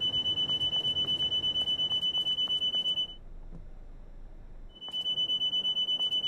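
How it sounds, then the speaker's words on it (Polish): A warning alarm in the cab of a Class 801 train in Train Sim World beeps in a rapid, steady, high-pitched pulse, goes quiet for a moment, then resumes. "Bo tutaj coś pika."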